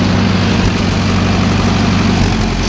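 A Kubota tractor engine, a low-hours barn find, running steadily nearby with a loud, continuous low rumble and no talk.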